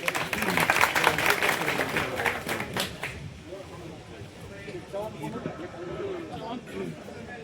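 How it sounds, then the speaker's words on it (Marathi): A village crowd applauds at a Maruti temple donation gathering, with a few seconds of dense clapping that tapers off, while someone speaks over the noise and keeps talking after it ends. "जोरात टाळ्या वाजा."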